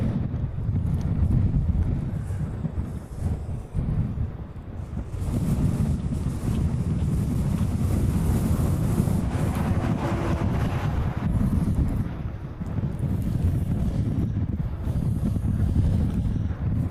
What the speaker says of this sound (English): It's blowing everywhere. And that means the microphone has to...